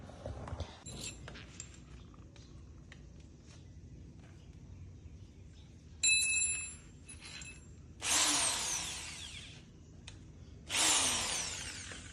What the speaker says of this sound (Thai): สว่านของเราก็จะเป็นตัวนี้ นะครับ แล้วก็ดอกสว่านจะเป็นดอกใหญ่นะครับ